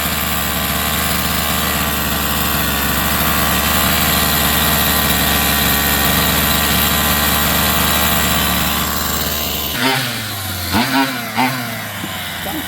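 A Rovan 45cc engine with a sluggish, drowning-sounding idle runs loud and steady with a rough buzzing drone, then cuts off near the end, leaving a few brief clunks and settling noises.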